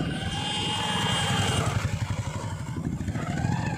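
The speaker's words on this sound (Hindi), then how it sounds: "ये चला रहा है बाइक" A motorbike rumbles along a village main road, its engine putting steadily at close range with a rhythmic low chug that pulses faster toward the end, with no talk over it.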